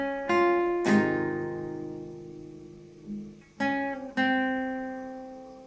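An acoustic guitar plays the intro to a song, with a few plucked notes and chords ringing out cleanly and sustaining, close and alone.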